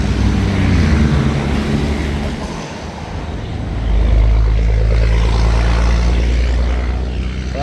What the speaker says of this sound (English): There goes the 9 bus.